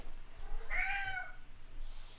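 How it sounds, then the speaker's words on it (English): A cat gives a single faint, drawn-out meow that sounds like a small child crying, rising and falling over low background noise. "Henry, why does the cat sound like a small child?"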